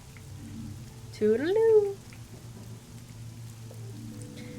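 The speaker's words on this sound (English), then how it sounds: "Hopefully the rain will stop by then." Soft, continuous rainfall in the video game Fall of Porcupine patters quietly throughout, while a short spoken farewell briefly rises over it near the middle.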